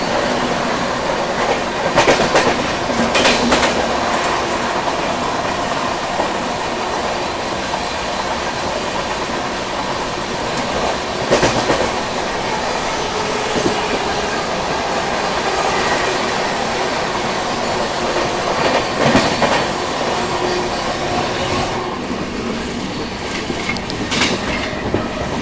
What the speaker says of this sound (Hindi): और ये है आनंद विहार गया स्पेशल फेयर, और इसका भी ओवरटेक हो गया यहाँ पे।